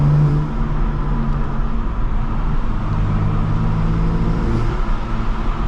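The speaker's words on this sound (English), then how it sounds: "a lot more turbo noise" A BMW M2 with the N55 turbo engine and a K&N intake filter pulls along the road in a steady, loud engine drone heard from inside the car, with no talking.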